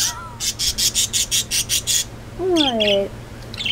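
Pet birds in a store give a quick series of about eight loud rhythmic chirps close by, then a falling squawk-like call and a few softer chirps, with a person speaking to them briefly.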